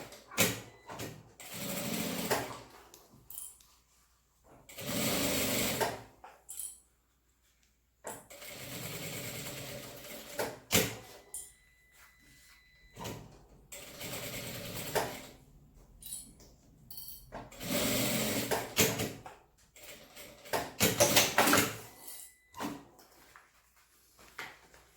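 A sewing machine stitches a medicine bag in repeated bursts of fast, close mechanical whirring, each lasting a few seconds, separated by brief pauses and small handling clicks.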